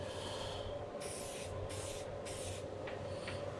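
Marine Protectant by Cyberchem sprayed onto fishing lures: three short hissing spray bursts close by, then two fainter puffs, over a steady low background hum.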